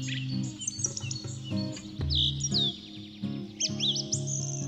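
Birds sing in a dry Polish pine forest with bright, rising and falling chirps and trills over a low musical background, moderately loud and steady throughout.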